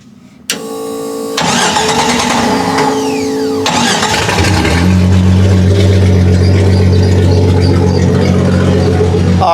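Vehicle engine cranking and catching, then settling into a loud steady idle with a low drone, close by in a workshop during NP231 transfer case and axle work.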